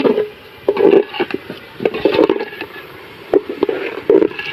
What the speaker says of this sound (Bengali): এখন চাল আর ডাউলগুলো একসঙ্গে ভালো করে ভেজে নেব।